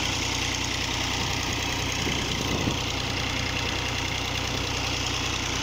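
A 2020 Fiat 480 tractor's diesel engine idles steadily up close, a continuous low rumble with a faint knocking texture and no voices.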